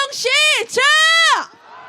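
Protest march crowd raising a collective shout, two loud sustained voiced cries rising and falling in quick succession, close and strong, then dropping away.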